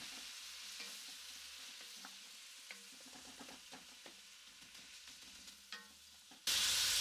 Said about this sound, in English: And we just want to cook that until the vegetables are soft.